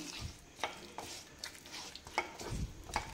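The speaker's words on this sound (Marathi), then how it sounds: "साखर टाकली की व्यवस्थित मिक्स करायचं, हलवायचं व्यवस्थित" A spoon stirs a thinning khava (milk solids) and sugar mixture in a pan for khava poli, making soft, faint scraping strokes at an uneven, unhurried rhythm in a quiet kitchen.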